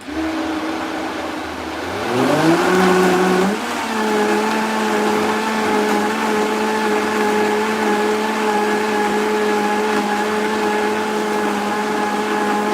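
A blender chopping frozen smoothie ingredients spins up in pitch, then holds a loud, steady motor whine and churn with no talking.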